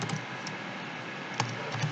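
Someone typing code on a computer keyboard, quick light key clicks in a steady patter, close and fairly quiet, with no talk.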